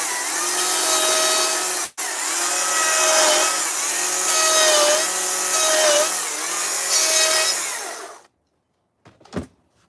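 A small chainsaw cutting into wood during carving, a loud steady buzzing whine with slight pitch wobbles over about eight seconds, then cutting off to near silence.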